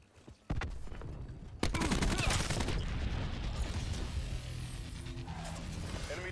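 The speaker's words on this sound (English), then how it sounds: "Cluster grenade going out." A cluster grenade goes off in Call of Duty: Black Ops 4 Search and Destroy, with a sharp blast followed by a burst of rapid crackling explosions and gunfire that roll on loudly, with faint game voice lines mixed in.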